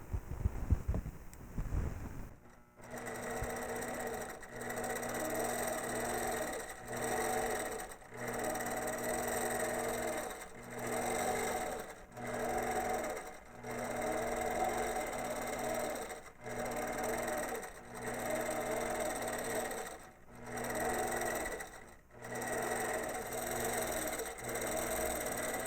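An APQS longarm quilting machine stitches with a steady, even hum, pausing briefly every couple of seconds throughout.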